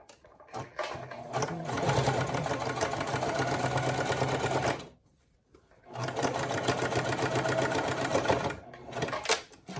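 A Singer Classic sewing machine stitching a pant hem, running in two steady buzzing bursts of several seconds each with a brief pause between, close and loud.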